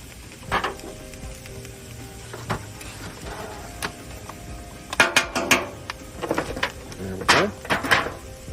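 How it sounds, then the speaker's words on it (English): Mushrooms sizzling in butter on a Blackstone griddle, heard as a soft, low crackle with scattered sharp scraping and clattering of a metal spatula, busier toward the end. "I'm gonna get some more butter on. And we're gonna fire up the mushrooms."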